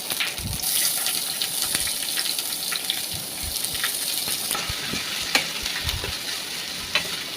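Mustard seeds, curry leaves, chillies and onion frying in oil in a kadai, a loud continuous crackling sizzle with scattered pops and stirring scrapes, close up.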